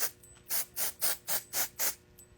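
Dry shampoo sprayed from an aerosol can onto a wig from about eight inches away, seven short hissing bursts in a quick, even rhythm, close and clear with no talk.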